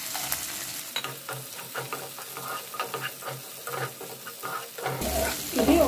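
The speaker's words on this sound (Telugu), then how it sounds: "ఇది ఒక 1 మినిట్ ఫ్రై అవ్వాలి ఈ మసాలా అంతా కూడా." Garam masala and softened tomatoes fry in a pan, with a steady sizzle and repeated scraping stirs throughout, getting louder near the end.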